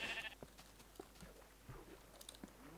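Sheep in a video game bleat once up close at the start, followed by soft, scattered chewing and clicking sounds.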